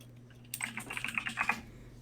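Rapid clicking keystrokes on a computer keyboard, a short burst of close, light taps lasting about a second and a half after a quiet start.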